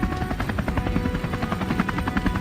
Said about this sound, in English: The sound of the rotor sends them scattering.